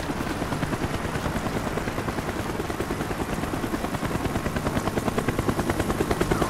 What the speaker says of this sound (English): The chopper is coming around again